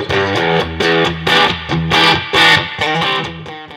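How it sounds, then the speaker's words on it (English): Electric guitar played through a DIY Phantom of the Fuzz fuzz pedal, loud, thick distorted chords struck in a steady rhythm of short, sustained bursts with no voices. "I have a really basic fuzz circuit called Phantom of the Fuzz."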